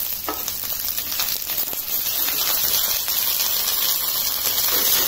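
Onion, garlic, tamarind and curry leaves sauté in a pan with a steady, close hiss of frying that runs the whole time, with no voices.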